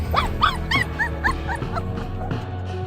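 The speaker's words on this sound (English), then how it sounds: "The dog was likely injured, as it was crying when the people tried to move the pipe." A scared little dog stuck between pipes cries out in a rapid series of high whimpers and yips, close and fairly loud, tapering off toward the end.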